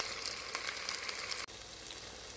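Vegetable stew simmering over medium heat, a steady soft sizzle and bubbling hiss with a brief dip partway through, no voices.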